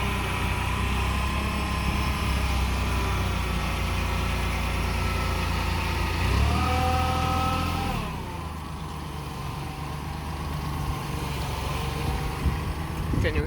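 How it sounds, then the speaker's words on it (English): A loud, continuous tractor engine drone with a brief rise in pitch around the middle, then settling lower; the tractor runs close by throughout. "Look how close he is with his tractor to this."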